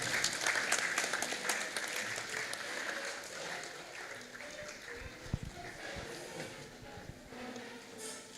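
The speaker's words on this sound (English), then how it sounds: "Let's clap for her." Scattered audience clapping at a university swearing-in ceremony, moderately faint and uneven, with some background voices and shuffling mixed in.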